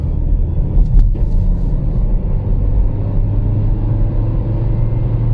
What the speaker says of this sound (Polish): O. Silnik Spalinowy nam pomógł.